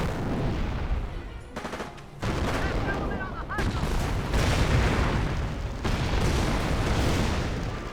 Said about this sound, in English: Landmine has been detonated there.